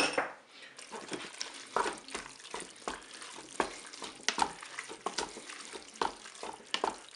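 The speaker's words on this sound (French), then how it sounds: "on va ajouter le concentré de tomate, la moutarde. On mélange tout ça." Spaghetti being stirred with tomato paste and mustard in a Cookeo pot: a utensil scrapes and clinks against the metal pot in an irregular rhythm of sharp taps, close and fairly loud, with a wet slurry sound beneath.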